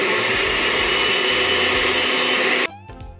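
Blender grinding cooked beetroot with water, a steady loud whirring roar running continuously before cutting off abruptly near the end, leaving a few faint knocks.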